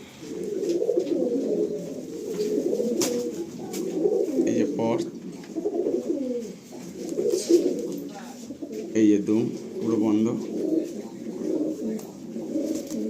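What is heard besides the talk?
pigeons cooing in loft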